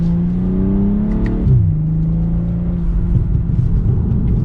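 A 2023 BMW M340i on the move lets out a deep exhaust burble as engine revs drop through a sharp turn, steady drivetrain drone continuing close and loud with no talking.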